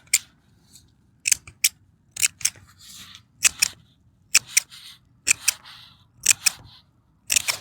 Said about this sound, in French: je coupe le plus gros avec donc les gros ciseaux.